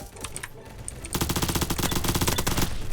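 Rapid automatic gunfire from the Roblox game Bad Business, a dense rhythmic burst of close, loud shots after a few scattered earlier pops.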